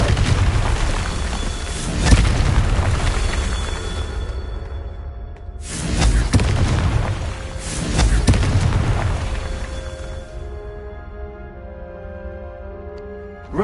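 Confringo spell blasts in Hogwarts Legacy: three heavy, booming explosions with long rumbling tails, separated by brief near-silent gaps, and the last one decays into a ringing, tonal shimmer.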